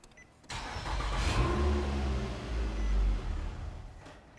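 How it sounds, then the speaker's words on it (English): A 2007–2012 Nissan Altima with its fuel pump fuse removed cranks and catches briefly, running rough for a few seconds before stalling out, close and fairly quiet. "Now with that removed, we're going to go try to start the vehicle"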